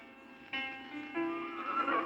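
A palomino filly whinnies loudly and up close, a shaky, rising neigh that swells in two surges and then wavers, heard alone without speech.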